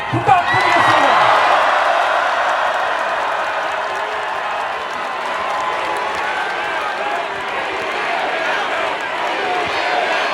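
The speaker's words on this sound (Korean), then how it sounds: "더불어민주당 총사령관 이재명 전 대통령께 다시 한번 힘찬 박수 부탁드리겠습니다" A crowd of citizens and party members at an outdoor political protest rally applauds and cheers, broad sustained clapping with whoops and shouts swelling early then holding steady, a voice briefly audible at the start.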